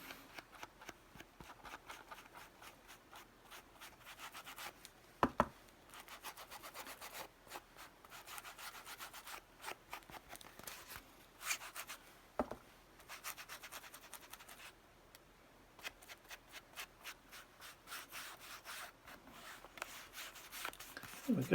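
Handmade craft piece having its edges distressed, a continuous soft scratchy rubbing with quick repeated strokes and a few sharper knocks, faint and close.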